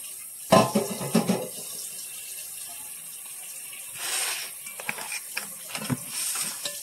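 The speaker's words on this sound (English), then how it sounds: "let the water run on it for about a minute" Tap water running over canned corn in a colander in a home kitchen, a steady hissing stream with irregular splashes and clatters, close and moderately loud, no talking.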